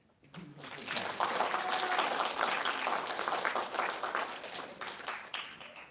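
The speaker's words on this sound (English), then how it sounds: "Please give them all a welcome round of applause." Audience applause at a youth awards ceremony welcoming high school students, a dense wash of clapping that swells after a brief quiet start and holds steady before tapering slightly.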